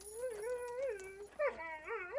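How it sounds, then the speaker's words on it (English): Several dogs whimper and yip in a high, wavering whine, rising and falling in pitch with short sharp yelps at the end, fairly close and clear with no talk over them. "You remember the dogs, of course."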